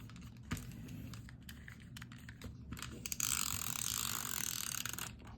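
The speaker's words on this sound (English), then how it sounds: "what we're going to use is a tape runner" A craft tape runner rolling adhesive onto paper, with close, fast ratcheting clicks that end in a longer dense burst of clicking and rolling.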